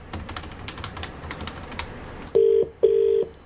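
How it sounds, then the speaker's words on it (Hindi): A telephone being dialed, with two long, loud dial-pad tones following a stretch of clicky tapping like keys being pressed. "फोन मिलाओ।"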